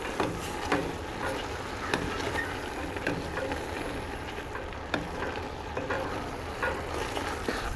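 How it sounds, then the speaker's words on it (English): Deer chili being stirred in a pot on a grill set low, a steady soft sizzle and scraping of a spoon running continuously, close and fairly quiet. "We're gonna mix this up really good."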